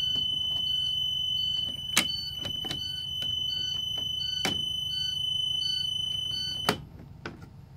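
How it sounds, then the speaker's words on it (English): Emergency exit alarm on a bus during a safety inspection, a sustained electronic tone sounding steadily throughout, with sharp clicks and clunks of handling the exit hardware cutting in now and then. "If you notice, the alarm sounded."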